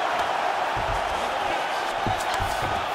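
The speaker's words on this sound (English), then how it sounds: "crowd pops as she reverses position" Arena crowd noise from the UFC 5 video game, a steady roar of spectators that swells briefly as a fighter reverses position in a women's bout, continuous and fairly loud throughout.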